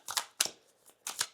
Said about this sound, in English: I'm just going to do 2 more shuffles here